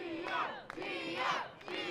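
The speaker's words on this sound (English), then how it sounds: "And the crowd once again rallying behind their odds-on favorite" A wrestling crowd rallies behind a favorite at a live event, swelling in rhythmic waves of chanting and cheering that rise and fall about three times, moderately distant and fairly quiet.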